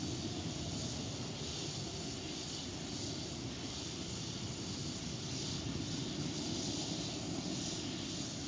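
Astra LV006 rocket in flight after launch from an island, a steady, dense, unbroken roar holding level throughout.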